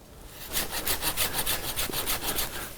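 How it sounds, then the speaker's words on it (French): A hand saw cuts through a garden branch with steady, rhythmic back-and-forth strokes, about a dozen evenly spaced rasping passes, close and fairly loud with no talk. "je m'aide à ce moment-là avec ma scie"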